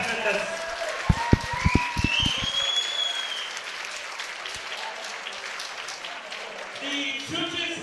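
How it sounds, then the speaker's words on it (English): A crowd at a combat sports event applauds both fighters after a bout, sustained clapping and cheering mixed with a few loud thumps, a whistle-like rising tone and an announcer's voice over the arena. "Please, a big round of applause for both black competitors"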